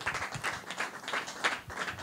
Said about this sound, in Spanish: Un aplauso fuerte para ella.